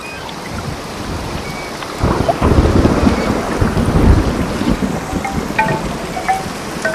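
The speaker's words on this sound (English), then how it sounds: "the sounds of the wind in the trees" Wind gusts and roars outdoors, rising into a stronger rush of buffeting noise partway through, with rustling that suggests moving branches.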